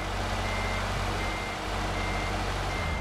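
Reversing beeps from a truck in Euro Truck Simulator 2, a steady run of evenly spaced electronic beeps over a loud engine rumble, continuous with no talking.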